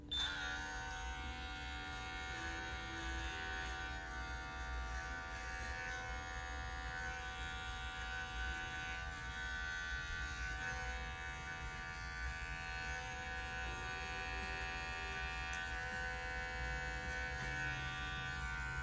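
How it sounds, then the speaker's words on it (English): A Schoenbau digital dog clipper with a 30 blade trims the paw pads of a Morkie, a Maltese and Yorkie mix, giving a steady close electric buzz with slight shifts in tone as it moves, no voices. "Now we're going to do the pads of his feet. I am using a Schoenbau digital clipper"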